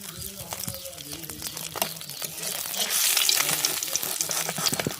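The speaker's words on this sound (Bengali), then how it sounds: "ওই মাছ ভাজার তেলেই পেঁয়াজের পেস্টটা দিয়ে দেব।" Onion paste frying in the oil left over from frying rohu fish, with loud crackling sizzle and stirring scrapes, rising to a fuller hiss midway, while people talk faintly underneath.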